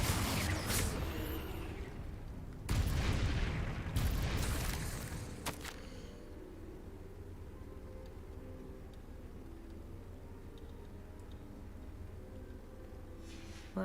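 Confringo blasting spell cast in a Harry Potter game, a few loud booming bursts with crackling blast noise in the opening seconds, then a long quiet stretch of low ambient hum with faint ticking.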